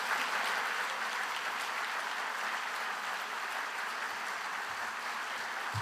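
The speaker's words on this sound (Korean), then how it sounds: "큰 박수로 맞아주시기 바랍니다" An audience at a church winter camp in Gangneung applauds to welcome a pastor: steady, dense clapping from many hands that holds at an even level throughout.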